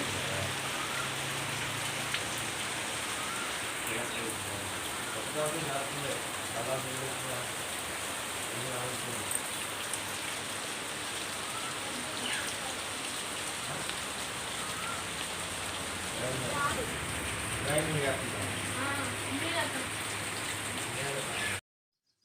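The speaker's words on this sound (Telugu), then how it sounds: "వర్షం అయితే ఇంకా తగ్గలేదు పడుతూనే ఉంది" Steady rain falls on surfaces outside a home in a continuous close hiss of drops that holds evenly throughout and stops abruptly at the end.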